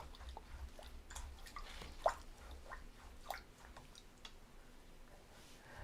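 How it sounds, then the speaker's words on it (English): A paintbrush is rinsed in a water pot during a watercolour daisy painting session, giving soft swishes, drips and light taps against the container, one sharper clink midway, all close and fairly quiet with no talk. "I have to rinse my brush."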